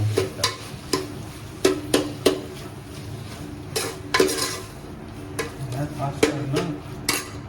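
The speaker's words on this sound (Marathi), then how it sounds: "हे चांगलं मिक्स करून घ्यायचं आपल्याला" A spoon stirs salted chicken biryani gravy in a pot, knocking and scraping against the metal in irregular close clinks over a faint simmering sizzle.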